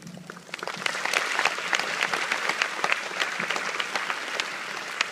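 Congregation applause during a Korean and English church sermon, many hands clapping in a continuous crackling wash that swells after a quiet start and stays steady and fairly loud in a large room.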